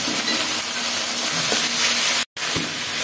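Tomato added to a spice paste frying in a pan for mustard rohu fish curry, a dense constant hiss with a brief dropout near the end, loud and close, no voices.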